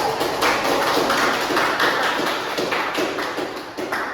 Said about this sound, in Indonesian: Berikan aplaus untuk aku.